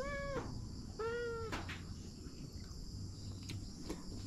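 A cat meows twice in quick succession, clear and close, followed by quieter background noise and faint clicks.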